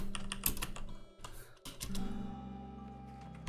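Computer keyboard typing while playing the roguelike game Caves of Qud with no mouse: quick clustered key clicks, soft and close, over faint background noise.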